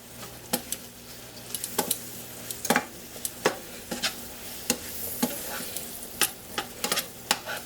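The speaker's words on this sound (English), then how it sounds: "add in about a tablespoon of flour, just regular all-purpose flour. Stir them around." Pork chops sizzle in a hot pan as flour is stirred in, a steady frying hiss broken by frequent sharp scrapes and clacks of a utensil against the pan.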